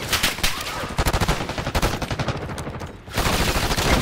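Gunfire in Call of Duty Black Ops 6 online multiplayer, dense rapid automatic bursts rattling almost continuously, loud and close, with a brief lull before the shooting resumes.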